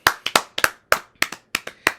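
About nine sharp hand claps from one nearby person, quick and slightly uneven, each snapping out alone with no other sound, offered as applause for a TV series cast.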